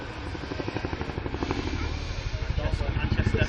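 An RAF Chinook tandem-rotor helicopter flies a display at the RAF Waddington Airshow, with a steady, loud rotor throb and engine drone throughout while a commentator talks over it.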